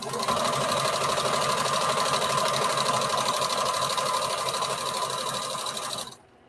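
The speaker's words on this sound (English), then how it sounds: "just sew straight down until we get to the bottom" A sewing machine stitches bandana fabric for a patchwork T-shirt dress in one continuous, close, fast-rattling run, then stops abruptly near the end.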